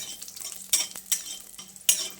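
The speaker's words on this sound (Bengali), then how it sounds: "বড়িগুলোকে আমি উল্টে পাল্টে ভেজে নিচ্ছি" Steady sizzle of lentil dumplings frying in oil over high flame, broken by a few scraping stirs of a spoon against the pan.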